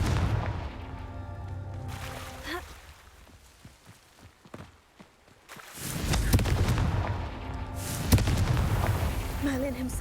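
The Confringo fire spell from Hogwarts Legacy bursts in loud explosive blasts, one sharp crack followed by a quieter stretch, then rumbling booms and crackling debris close by, with a voice present.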